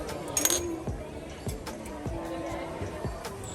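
Drinking glasses clink and knock together as they are unpacked in a new apartment, giving several light, sharp taps at irregular intervals with faint handling noise and rustling between them.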